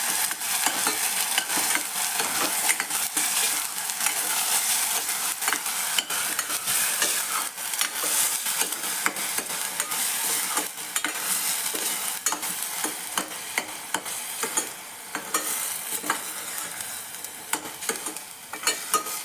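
Masala frying in oil for a Marathi matki dal amti, spoon stirring continuously against the pan with a constant bright sizzle, close and loud throughout.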